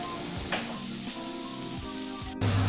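Hamburger patty sizzling in a hot frying pan, a steady close hiss of fat with faint crackles, broken near the end by a brief clatter and a louder tone.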